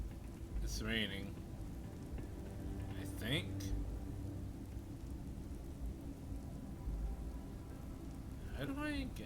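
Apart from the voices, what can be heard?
rain in the video game Starfield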